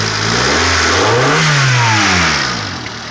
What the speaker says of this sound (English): 93 Civic, and it runs.